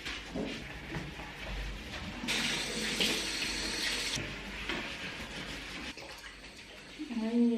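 Water runs and splashes from a tap while floors are being washed in a dormitory room, a steady broadband rush lasting throughout with a louder burst midway, and someone talking over it.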